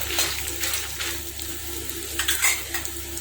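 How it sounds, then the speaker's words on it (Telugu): Urad dal and coriander seeds fry in a pan with a steady low sizzle, punctuated by scraping stirs and light clinks of a utensil, close and continuous. "ఇది ఫ్రై అవుతూ ఉండగా మనం మినపగుళ్ళు ధనియాలు వేసేసి ఫ్రై చేసుకోవాలి"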